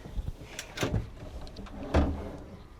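A kitchen drawer in a Brewster camper van, built of marine plywood with dovetail joints, gives a few quick knocks and slides, then one firmer thud as it closes, all close and fairly quiet.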